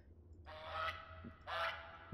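Two loud, nasal goose honks from the horror game Creature Packets, each about half a second long, separated by a short pause over a low background hum.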